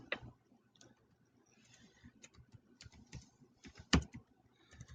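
Quick, light clicks of fingers typing on a computer keyboard, tapping in short uneven bursts, close and quiet.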